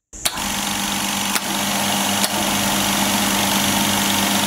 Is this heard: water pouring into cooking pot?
no